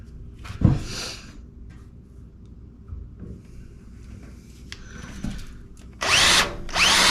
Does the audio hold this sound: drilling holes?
yes